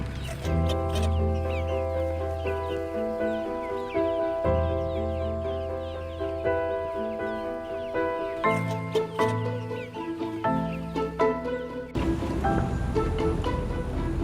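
Pasture-raised chickens, a Red Ranger-like breed, cluck and murmur continuously close by on a farm at White Oak Pastures, a busy flock chattering over a soft outdoor background wash.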